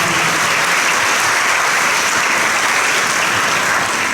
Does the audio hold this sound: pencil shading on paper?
no